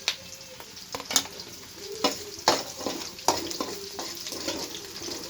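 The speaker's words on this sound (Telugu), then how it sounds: "నెక్స్ట్ ఆనియన్స్ కొంచెం వేగాలి బాగా." Onions fry for upma in a pan with a soft, steady sizzle. Close, gentle stirring and scraping strokes rise above the sizzle every second or so.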